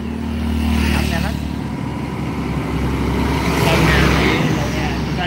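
A truck passes along the road, its engine a steady low rumble that swells twice as it goes by, under a child's and an adult's voices talking nearby.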